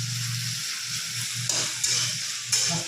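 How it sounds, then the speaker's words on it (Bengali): Onion, ginger and garlic frying in a pan for khichuri, a steady close sizzle with a low bubbling hum and a few sharp clicks of stirring, no voices. "আদা রসুন দিয়ে দিলাম, পেঁয়াজ ভাজা হয়ে গেছে"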